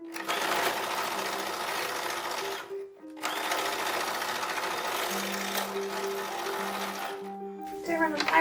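Sewing machine stitching piping onto the neckline of an 1850s-1860s style cotton print dress, a steady close whirring run that pauses briefly and then resumes, with short gaps near the end.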